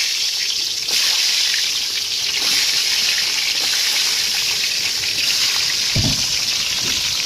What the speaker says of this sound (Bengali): এই ডিমটা ভেজে নেবো